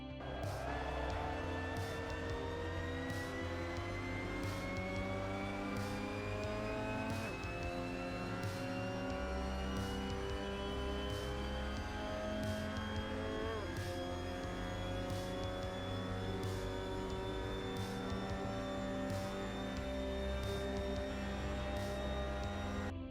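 A Mazda MX-5 Cup race car in Assetto Corsa laps Misano, its engine droning continuously with pitch rising through the gears and dropping at shifts, steady and close throughout.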